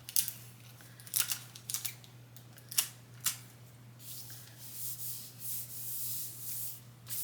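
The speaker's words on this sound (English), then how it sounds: "So now we're going to cut it out." Scissors snip through fabric while cutting out a simple hair towel pattern, a series of short crisp cuts in irregular bursts, followed by a longer rustling of cloth being handled, close up and fairly quiet over a steady low hum.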